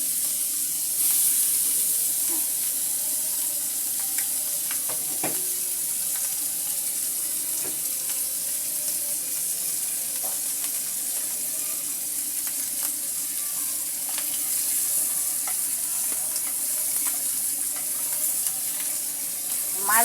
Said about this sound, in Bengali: মাছগুলো এপিট এপিট করে সুন্দর করে ভাজা হচ্ছে।